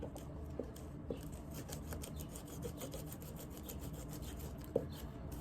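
Excess glue is scraped from the welt of an Alden Indy boot with quiet, rapid rubbing strokes, a steady rasping texture with a couple of small knocks, close up and without talk.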